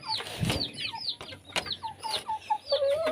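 Backyard chickens clucking in a steady string of short, close, bright calls, several birds overlapping at moderate loudness with no talking.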